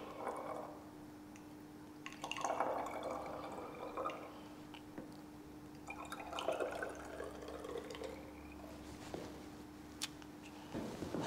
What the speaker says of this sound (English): So adding the water carefully.